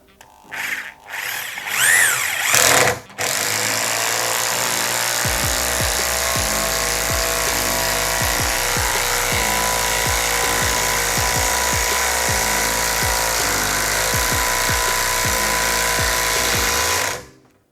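A Vitals Professional WI 1423il cordless screwdriver drives a long 6x152 mm turbo screw into the end of a piece of wood. After a few short trigger bursts, the motor runs at a steady, loud whine for about fourteen seconds, with repeated ratcheting clicks underneath.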